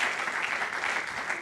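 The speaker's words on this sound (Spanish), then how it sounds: "Le da ese aplauso fuerte." Loud, continuous applause from a church congregation, a dense wash of clapping with no break across the short moment.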